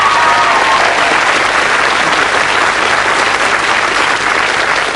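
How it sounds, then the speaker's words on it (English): A studio audience at a 1988 game show applauds the contestants, with loud, sustained and dense clapping that stays at an even level for several seconds, a faint crowd murmur underneath. "Give them a round of applause."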